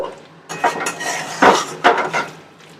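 Metal pots and a lid clank and rattle loudly in a few close knocks while chilli mushroom cooks in a pan and water goes in before it is covered.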